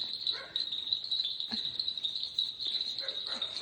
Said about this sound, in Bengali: ঝিঝি পোকার ডাকগুলো শোনা যাচ্ছে।